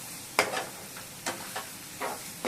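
Egg porutu sizzles in a pan while being stirred, with several distinct scraping strokes rising over a soft, steady frying hiss.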